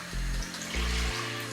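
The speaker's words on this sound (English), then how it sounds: "We're going to lift that up now with 200 millilitres of water." Water poured into a hot pan of curry paste and onions for lamb and potato curry, two low gurgling pours with a brief pause between, faint sizzle underneath.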